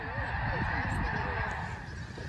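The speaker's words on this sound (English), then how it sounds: "Tens of thousands of snow geese take flight, headed for nearby grain fields for breakfast." Snow geese honking as a huge flock of tens of thousands lifts off at dawn during spring migration at Freezout Lake, a dense overlapping chorus of calls heard at moderate distance.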